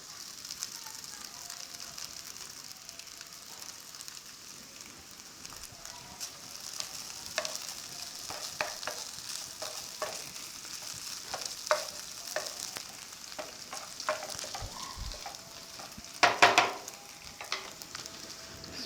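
Chicken fries in a pan with onion and cabbage for a fried chicken snack, making a soft continuous sizzle with scattered scraping and clicking as it is stirred, a louder burst of clatter near the end.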